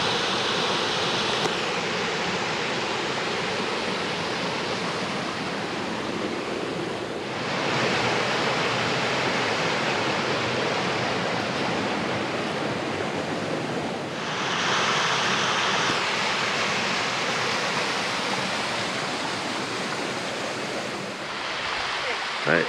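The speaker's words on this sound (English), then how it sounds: "especially with the beautiful waterfalls." Waterfalls along the Gorge Trail in Stony Brook State Park pour with a constant broad rushing roar, loud and close, swelling slightly at moments throughout the long stretch with no clear voices.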